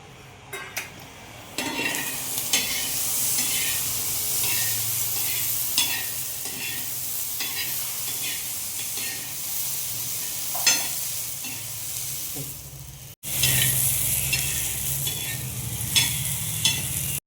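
Steady sizzling as dough roasts in ghee in a pan, with repeated scraping and stirring strokes throughout, close up and fairly loud, no talking.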